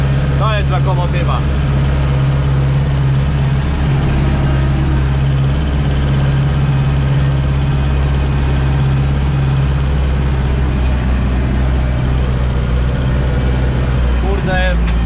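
A tractor used for ploughing runs steadily throughout, a loud continuous low engine drone close by with a constant hum, with no break in the sound.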